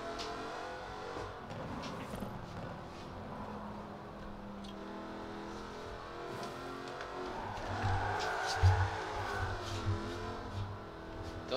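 A Jaguar XKRS GT drifts in Forza Horizon 4 on a winter road, its engine droning steadily and fairly quietly, then swelling with louder revs and tyre noise near the end.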